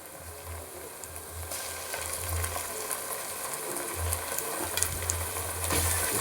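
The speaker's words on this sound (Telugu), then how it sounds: "ఇప్పుడు చక్కగా వేయించుకుందాం" Green chilli, ginger and garlic paste fry with onions in a pan for Bangada fish curry, giving a faint, even sizzle with occasional soft stirring scrapes and a low background hum.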